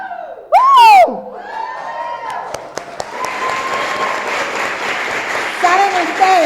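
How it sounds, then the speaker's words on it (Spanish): Church congregation letting out a loud shouted war cry, a sudden burst of voices swelling into sustained cheering, whooping and clapping that fills the room, with a leader's voice rising above the crowd. "que peguen un grito de guerra lo más fuerte que ustedes lo puedan hacer"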